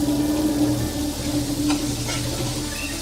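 Mince and aromatics sizzle steadily as they are sautéed and shallow fried together in a pan, a continuous close frying crackle with faint stirring scrapes and no voices.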